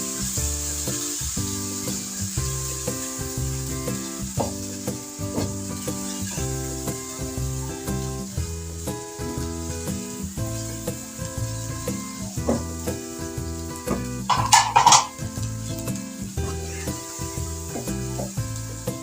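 Chana dal fries with spices in a pan, dhaba style, giving a continuous close sizzle broken by rhythmic scraping and stirring strokes of a utensil, with a brief louder clatter near the end.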